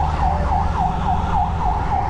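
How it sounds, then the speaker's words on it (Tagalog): A fire truck siren wails in a steady, repeating rise-and-fall cycle, loud and close, over street traffic rumble in Mandaluyong. "Fire truck."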